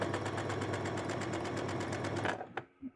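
A sewing machine stitches a bustier, running in a steady, rapid, continuous whir for over two seconds before stopping abruptly, followed by a couple of brief clicks.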